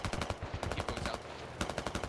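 Rapid automatic gunfire from a military video game, dense bursts of suppressive fire crackling loud and close in quick uneven rhythm across the whole stretch, with multiple weapons overlapping.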